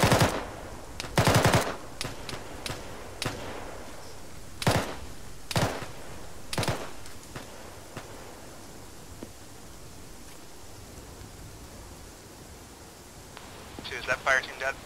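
Bursts of gunfire in a military video game firefight, several loud automatic volleys and single shots in the first seven seconds, then quieter background noise with faint distant shots and a brief rustle near the end.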